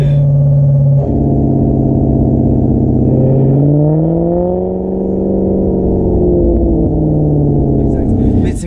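A Maserati GranTurismo MC Stradale engine drones steadily from inside the car, pitch sagging slightly and then climbing again as it revs, loud and continuous for the whole stretch with no talk over it.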